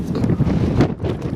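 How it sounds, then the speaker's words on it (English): Strong, cold afternoon wind buffets a camera microphone on a tripod, a loud continuous rumble that swells and dips over a short moment. "Hey, now it's so windy and cold."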